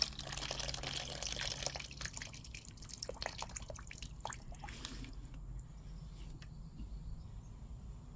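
Water trickles and drips into a pepper seed-starting tray, soft and close, with scattered small splashes that thin out to quiet drips.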